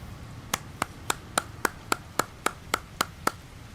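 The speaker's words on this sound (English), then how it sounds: "It's the patented Dread Marines clap." A rapid series of about eleven evenly spaced hand claps from a clapping emote in No Man's Sky, crisp and close, with no voices over them.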